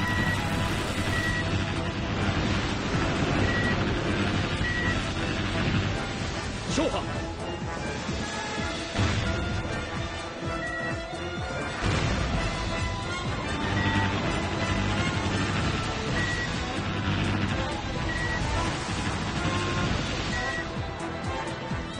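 Dense, energetic background music from the naval warship game Kōtetsu no Hōkō 2 plays steadily and loudly throughout, with busy layered instrumentation and occasional crashing effects mixed in.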